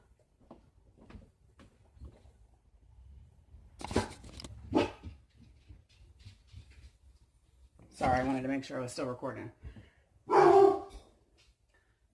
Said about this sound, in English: dogs like to bark